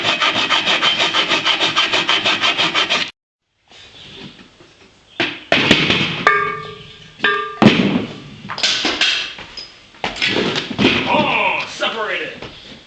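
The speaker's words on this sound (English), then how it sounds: "I'm making my own hacksaw by wrapping part of it with duct tape" Hand sawing with a bare reciprocating-saw blade wrapped in duct tape as a makeshift hacksaw, rapid rhythmic rasping strokes close up, then a pause followed by knocks, rubbing and scraping as a speaker talks.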